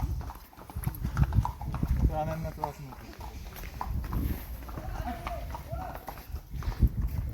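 Horse hooves clip-clop on a hill path at Matheran, a rhythmic series of nearby steps passing by, heard under people talking along the way with some faint background bustle.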